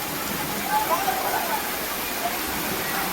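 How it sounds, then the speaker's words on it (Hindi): Heavy rain pours down in Latur, Maharashtra, as water flows through the streets, a dense, steady hiss close by with a voice talking over it. "अचानक तेज बारिश के चलते सड़कों पर पानी बहने लगा"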